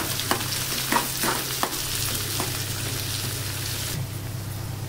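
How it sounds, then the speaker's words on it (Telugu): Curry leaves, green chillies and onions fry in hot oil with a loud, steady sizzle, a few stirring scrapes and clinks near the start, and the hiss easing off toward the end. "ఇప్పుడు కరివేపాకు పచ్చిమిరపకాయలు ఉల్లిపాయలు వేసేసుకోండి కొంచెం వేయించుకోవాలన్నమాట"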